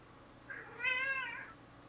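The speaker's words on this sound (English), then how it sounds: "I hear a lot of meowing." A cat meows once, a single drawn-out, rising and falling yowl lasting about a second. It stands alone over a faint, quiet background.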